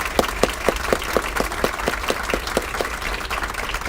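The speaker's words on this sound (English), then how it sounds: "So a round of applause for Ms. Camilleri." An audience at a school board of education meeting applauds, a brief steady patter of clapping from a small group with some distinct individual claps, moderately close.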